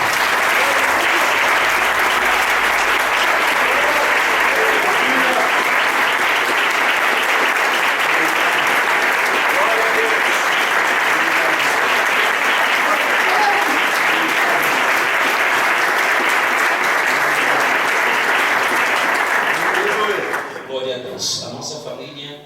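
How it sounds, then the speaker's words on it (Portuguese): A church congregation applauds at length during a worship service, a dense and loud wall of clapping that continues steadily for about twenty seconds before fading out abruptly near the end. "eu vou fazer mais uma vez, que nós aplaudimos ao Senhor Jesus pela vida do pastor Paulo"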